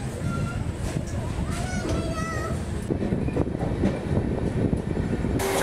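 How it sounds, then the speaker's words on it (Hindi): Chandigarh Indore Express passenger train running fast on rails, a steady loud rumble with rattling carriage noise and faint squeals throughout, with people talking faintly under it. "चंडीगढ़ से लगा के मेरठ तक ट्रेन बहुत ही शानदार चली, इतनी पूरी गति में चली"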